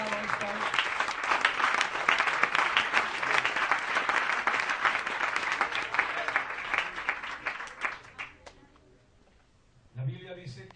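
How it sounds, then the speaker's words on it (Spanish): A church congregation at a missionary pastor's service in Spain claps in a dense, lively burst for about eight seconds before it fades away, and a voice then starts speaking. "Doy un aplauso al Señor Jesucristo, hermano."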